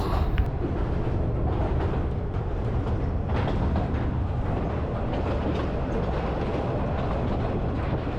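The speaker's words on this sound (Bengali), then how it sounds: "এই তো ট্রেন আস্তে আস্তে থেমে গিয়েছে" A passenger train rolls into Lalmonirhat station and slows toward a stop, its carriages rumbling with a dense, steady roar and faint clickety-clack of wheels throughout, close and loud.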